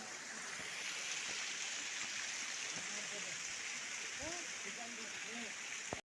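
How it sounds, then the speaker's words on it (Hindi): A small mountain stream in the monsoon season rushes steadily and close by, a continuous broadband wash of flowing water with faint birdsong chirps under it. "छोटे मोटे गधेरे सब चौमास में बरसात के मौसम में छल छल कलकल करते रहते हैं"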